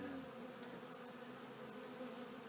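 Honey bees swarm in a steady, dense buzz around a beehive at a church, close and continuous for the whole stretch, with no voices.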